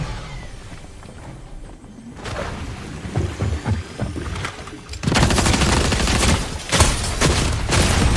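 Two legendary guns fire in a Fortnite Zero Build match: bursts of rapid gunfire start around two seconds, then become a dense, loud, sustained volley in the second half with short pauses, close to the player.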